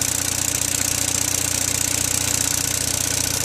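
An Onan 5CCK generator engine runs steadily under load, a loud continuous rumble with a fast rhythmic knock and a bright mechanical whine over it.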